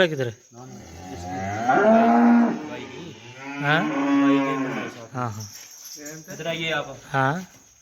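Several long, loud moos from a dairy farm cow calling to its calf, close by, each drawn out and wavering, with short pauses between them and faint insect chirps in the background.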